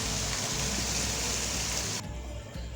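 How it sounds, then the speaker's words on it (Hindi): Two glasses of water pour into a pan of mutton karahi masala, a loud splashing gush for about two seconds that cuts off into a quieter simmering hiss. "दो गिलास पानी इसमें ऐड करेंगे।"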